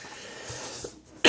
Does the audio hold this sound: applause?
no